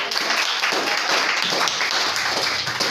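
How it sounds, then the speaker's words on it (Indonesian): A school class applauds at the end of a lesson, a continuous close round of hand clapping from a group of students, fairly loud and even throughout. "Tepuk tangan dulu buat kalian semua."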